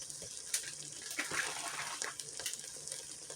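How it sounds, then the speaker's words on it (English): Water runs steadily from a faucet, a continuous hiss with small splashy fluctuations throughout, moderately close and without any talking. "my water faucet still talks to me sometimes, even though I don't want to hear it."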